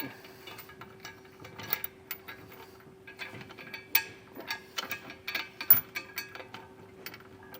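Hitch bolts threaded by hand on a 2021 Toyota Sienna during a trailer hitch install, giving a series of light metallic ratchet-like clicks and scrapes at close range over a steady low hum, with no talking.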